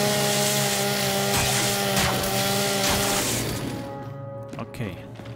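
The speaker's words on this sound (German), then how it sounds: "Wir müssen hier wieder sägen." A steady mechanical chainsaw drone from Gears 5 hums for about four seconds, then cuts out, with a voice talking over it.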